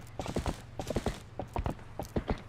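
Epona the horse's hooves clip-clop in Zelda: Twilight Princess, a steady trotting rhythm of paired hoofbeats over a low constant hum, clear and close with no talk.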